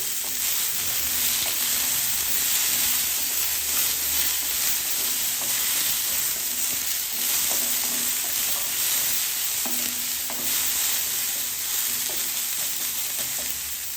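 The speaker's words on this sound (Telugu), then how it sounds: "అల్లం ముక్కలు కొబ్బరి క్యారెట్ వేసుకొని మంచిగా మగ్గనివ్వాలండి" Ginger pieces, coconut and carrot fry in a pan with a steady, close sizzle and occasional stirring scrapes, with no voices, running for about fourteen seconds.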